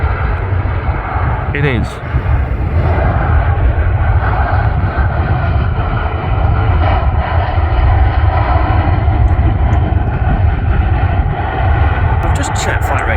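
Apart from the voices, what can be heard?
Austrian airliner passing at Manchester Airport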